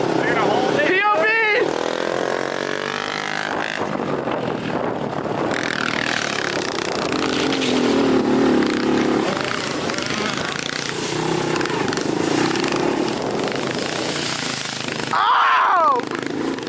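A 300-horsepower K24-swapped Honda Civic with a modified exhaust, heard from inside while driving. Loud, rough, rattly engine and exhaust noise runs continuously, with a few sharper revving bursts.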